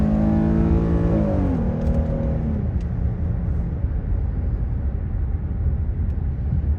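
A car engine is held at full throttle with the pedal floored. It roars loudly and steadily close by, its pitch sweeping upward at first and then settling into a sustained, strained drone.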